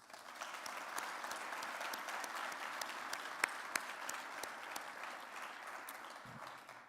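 A hall audience at the Akureyri sports awards gives sustained applause for an award recipient, many hands clapping steadily for several seconds, with a few sharper close claps standing out.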